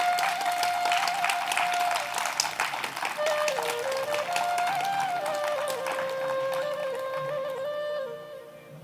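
An audience at a devotional Ramlalla Mahotsav gathering claps steadily and loudly, a dense wash of applause with a sustained melodic tone running through it, fading slightly near the end.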